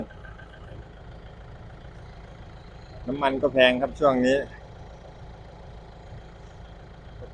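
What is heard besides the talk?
tractor engine idling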